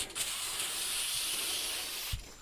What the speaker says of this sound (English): spray it with a little cooking oil